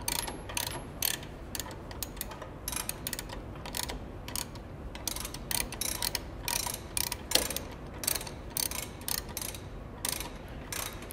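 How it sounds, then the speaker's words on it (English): Adjusting screw on a PT Smart belt trainer being turned, giving a quiet run of rapid ratcheting clicks and small mechanical ticks, close up with no talking. "we'll use the adjusting screw here to go either in or out"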